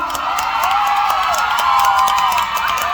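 Crowd cheering and clapping from the audience at a live Thai likay folk theatre show, a steady dense roar of voices and applause that holds loud throughout.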